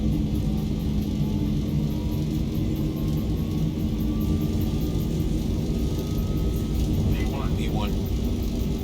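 A Zibo Boeing 737-800 on its takeoff roll in X-Plane 12, a steady, dense engine roar and runway rumble holding constant throughout, with a faint rising whine near the end.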